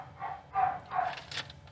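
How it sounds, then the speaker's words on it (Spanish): Neighbours' dogs bark from a distance, with three or four muffled, evenly spaced barks at moderate loudness, followed by a fainter higher yip. "¿Se escuchan los perros? ¿Sí escuchan?"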